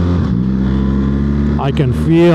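A BMW R 1300 GS motorcycle engine drones loudly and steadily, its pitch dropping and then rising as it downshifts, with wind noise and someone talking over it.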